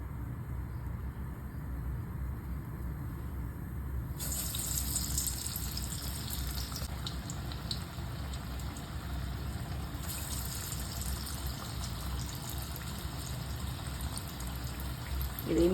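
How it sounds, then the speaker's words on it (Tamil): Banana flower vadai patties frying in hot oil, a steady soft sizzle and crackle running continuously, growing a bit brighter partway through. "இப்போ எண்ணெய் சூடானதும் ஒன்று ஒன்றா இந்த மாதிரி ஃப்ளாட் பண்ணிவிட்டு உள்ளே சேர்த்துக்கோங்க."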